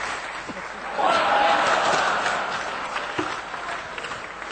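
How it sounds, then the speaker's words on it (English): Audience at a conference presentation breaks into moderate, slightly distant applause lasting a few seconds, mixed with crowd murmur and voices. "So, round of applause."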